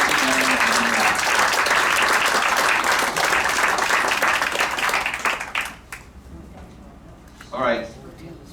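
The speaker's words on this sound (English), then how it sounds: "A big round of applause for listening." An audience at a community meeting about water supply claps in a dense, loud burst of applause that fades out after about six seconds, followed by a brief voice.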